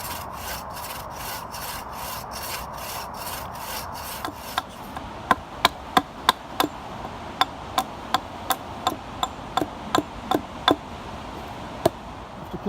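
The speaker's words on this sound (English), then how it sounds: "Plenty of chiselling and sawing away." Wood being sawn and chiselled for an A-frame brace in a log cabin: a few seconds of steady rasping saw strokes, then a run of sharp, evenly spaced chisel or mallet knocks, close and alone.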